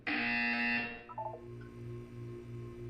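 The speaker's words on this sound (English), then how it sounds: "You will hear a buzzer." A loud, harsh electronic buzzer from the Portal 2 video game blares for about a second, then cuts off, leaving a low pulsing hum behind.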